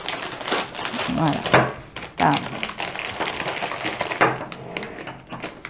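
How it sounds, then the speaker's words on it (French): Adhesive tape stuck fast being peeled off scrapbooking purchases from a market, heard as crinkly, tearing bursts up close, with brief words spoken between pulls. "Qu'est-ce qu'il a ce scotch là qui ne veut pas se retirer."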